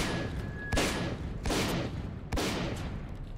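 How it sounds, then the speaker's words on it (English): Bursts of gunfire in the video game S.T.A.L.K.E.R.: Call of Pripyat, three heavy volleys at roughly even intervals over a loud continuous rumble. "Why are you shooting at me?"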